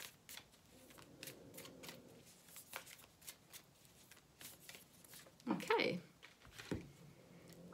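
A deck of Lover's Oracle cards is shuffled close by in quiet repeated riffs and soft slaps, with a voice briefly heard.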